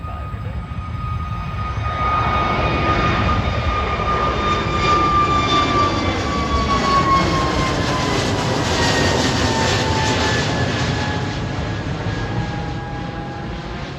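A Frontier Airlines jet at Cleveland Hopkins airport roars steadily and loudly for about fourteen seconds, its engine whine sweeping in pitch as it passes nearby, with no talk.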